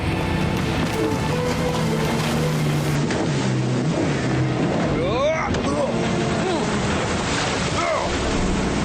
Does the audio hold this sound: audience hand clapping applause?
no